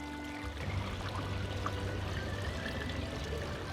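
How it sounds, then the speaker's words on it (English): Homemade limoncello lemon liqueur poured steadily into a bottle with sugar, a continuous close liquid stream and gurgle lasting several seconds, no voices. "pour our limoncello in."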